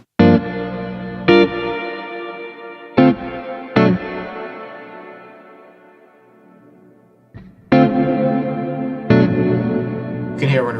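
Several strummed electric guitar chords through the Neural DSP Archetype: Plini plugin ring out with a long, shimmering reverb tail, weighted to the higher frequencies, that lingers and slowly decays between strums; no talking.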